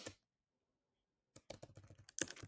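Brief burst of rapid keyboard typing on a computer keyboard, a quick run of close, crisp keystrokes after a pause, following a short opening sound.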